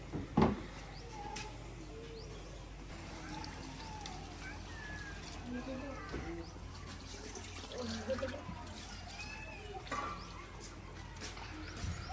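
Water trickles and splashes as it drains out of an air cooler at a village mud house in the evening. The flow is faint and uneven, with bird calls and distant voices in the background.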